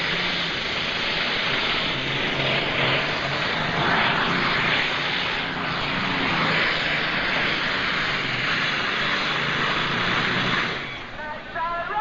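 A Deere & Company pulling tractor engine roars loud and sustained through a tractor pull run, a dense, steady mechanical drone that holds for about eleven seconds before cutting off abruptly into a brief fading rattle.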